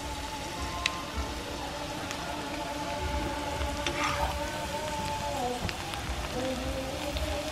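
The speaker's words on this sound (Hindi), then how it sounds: "थोड़ी थोड़ी करके भिंडी इसमें शामिल करके हम फ्राई करते हैं।" Okra frying in hot oil over a medium flame gives a steady, faint, rain-like sizzle and crackle, with a low tonal hum running underneath.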